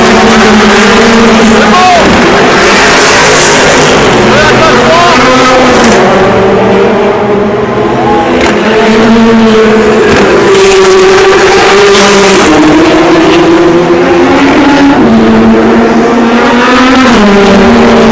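Porsche race cars during the 24 Hours of Le Mans, with loud, continuous engine drone and rising and falling pitch sweeps as the cars pass, under excited commentary.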